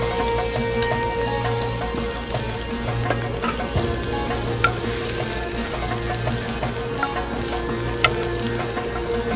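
Chopped garlic frying in a pan for garlic pepper prawns, a continuous close, loud sizzle with a steady low hum beneath and occasional faint clicks, no voices.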